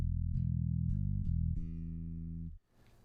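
Deep, muffled bass guitar notes through a Line 6 Helix with the mid and high bands cut, a few plucked notes followed by a held tone that cuts off abruptly.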